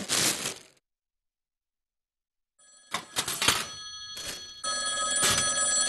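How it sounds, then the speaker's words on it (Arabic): A telephone rings with an incoming call on a TV cooking show: a brief burst, then a silent gap, then repeated electronic ringing with clicks that settles into a sustained tone. "وحنا ناخذ اتصال"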